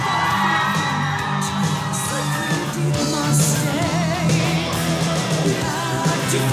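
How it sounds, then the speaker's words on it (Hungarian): A large crowd at a cosplay contest at a fantasy expo cheers and whoops, with shouts and yells blending into a loud, sustained roar of excitement. "És egy nagy-nagy tapsot kérnék szépen még egyszer a versenyzőinknek."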